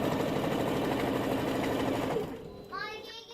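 A sewing machine runs continuously, stitching quilt blocks together, a close, steady mechanical whir that stops after about two seconds as a voice starts talking.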